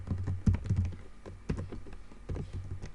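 Keys clatter on a computer keyboard in uneven bursts of quick taps with short pauses, close and fairly soft, with no voices.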